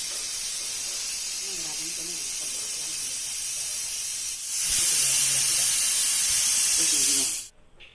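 A pressure cooker whistles and vents steam while curry cooks, a continuous loud hiss that surges stronger midway before cutting off abruptly near the end, with faint speech beneath.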